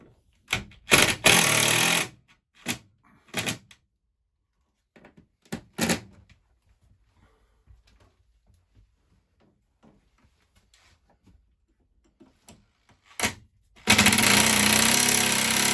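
A hammer drill bursts on loudly in short hard runs separated by quiet gaps, then starts again and runs continuously at the end.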